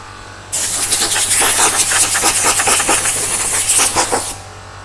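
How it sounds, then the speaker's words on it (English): A car bumper on a Suzuki Wagon R+ is hand-sanded with 180 grit sandpaper, a loud close rhythmic scratchy rasp of quick back-and-forth strokes that starts abruptly and stops near the end. "Sand some of it with the 180 just to flatten it down slightly."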